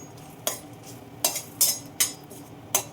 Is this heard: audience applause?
no